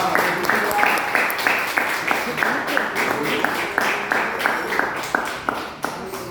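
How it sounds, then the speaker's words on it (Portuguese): A church congregation claps in a steady, rhythmic pattern, evenly spaced claps carrying on at moderate loudness with a murmur of voices underneath. "Pode aplaudir"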